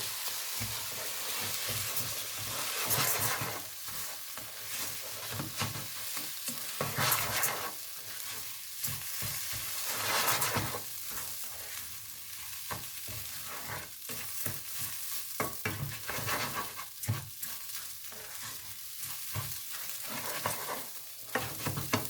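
Rice and onion being stirred in a pan for seafood risotto, with a steady soft sizzle and repeated scraping strokes of a spoon throughout, close and with no talking.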